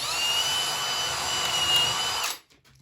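Cordless power drill driving screws into a wooden chair mock-up: a steady close high-pitched whir for over two seconds, then a sudden stop leaving a quiet room.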